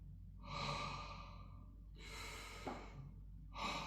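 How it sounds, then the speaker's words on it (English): A classical singer takes soft, deep breaths during a breathing exercise, three slow airy inhalations close to the ear with short pauses between, quiet and alone with no talking. "Soft breath."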